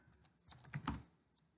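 Several crisp keystrokes on a computer keyboard as a command is typed at the command line, a short cluster of close clicks with a couple of louder taps in the middle.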